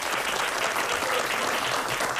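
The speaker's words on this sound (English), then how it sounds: "Let's give them a big round of applause." An audience at a high school quiz bowl match applauds the team, producing a dense, continuous wash of clapping at even loudness with no talk over it.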